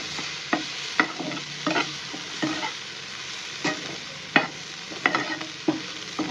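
Fried prawns and onions cook in a pan over a soft, steady sizzle, broken by intermittent scraping strokes of a spoon as they are turned, close by with no voices.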